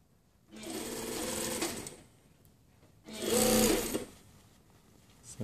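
A sewing machine stitches up a jacket hem in two separate bursts of rapid, whirring needle action, each lasting about a second and a half. The bursts are loud and close, with quiet pauses between them.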